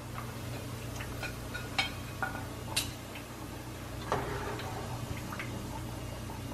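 Fried pork chicharrones crackle after the stove is switched off, with scattered sharp pops and ticks over a steady low hum, close and fairly quiet.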